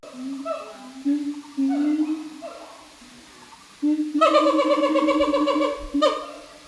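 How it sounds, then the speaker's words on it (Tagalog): Ape at Taipei Zoo with an inflating throat sac, giving loud, rising hooting calls in repeated bursts that grow into a long, intense series, heard from a short distance with people talking softly earlier. "Pero may isang unggoy dito na napakaingay, talagang hinanap ko kung nasaan. Eto, pakinggan nyo ha, lumulubo yung mga leeg nila eh."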